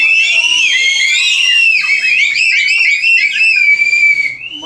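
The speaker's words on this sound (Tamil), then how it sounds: "இங்க ஏர்போர்ட்ல இறங்குனதுல இருந்து விசில் சவுண்ட் கேட்டுட்டு இருக்கு" A crowd at Madurai airport whistles continuously: many shrill, overlapping whistles sliding up and down, loud and close, with a brief dip near the end.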